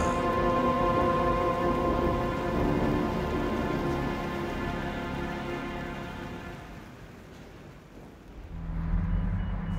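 Rain falls in a dense, steady hiss that fades slightly over time, with a low tonal hum underneath and no voices.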